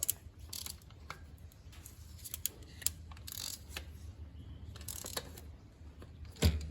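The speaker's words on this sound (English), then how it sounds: "I've just got an oil filter removing tool on my ratchet. I'll just tighten up on the oil filter." Ratchet fitted with an oil filter removing tool clicks in short bursts while tightening onto the oil filter of a Honda Civic, faint metallic ticks over low workshop hum with a sharper clunk near the end.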